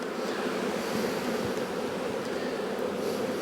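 Honey bees buzz up close while a colony is being split, a thick, continuous drone holding steady throughout with no voices.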